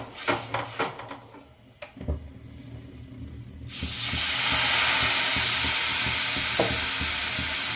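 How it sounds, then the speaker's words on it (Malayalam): Tamarind water is poured into a hot frying pan with seasoning, setting off a sudden loud, sustained sizzle and hiss, preceded by scraping and stirring of the pan. "നമുക്ക് ഇനി ഈ പുളി വെള്ളം ഇതിനകത്ത് ഒഴിച്ച് കൊടുക്കാം."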